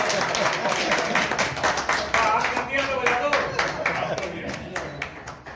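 An audience claps in rhythm during a poetry recital at a Holi gathering of a Ghaziabad journalists' association, a steady beat of hand claps running under a man's continuous speech.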